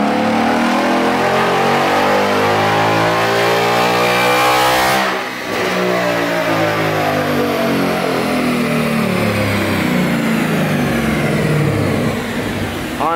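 A Ford Mustang S550 with an aftermarket intake, X-pipe and tune runs a dyno pull, its engine loudly revving up, dipping briefly at a shift, then climbing steadily again to high rpm.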